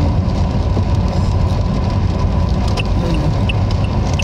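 A car drives along a road, heard from inside as a steady, loud low rumble of engine and tire noise that holds even throughout with no talk.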